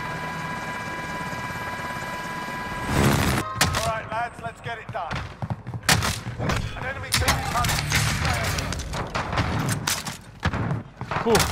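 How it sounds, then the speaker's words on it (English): Gunfire in the battle royale game Call of Duty Warzone: after a steady engine drone, rapid bursts of shots and booms erupt, mixed with a helicopter rumble and overlapping voices of players talking. "Who's shooting you guys?"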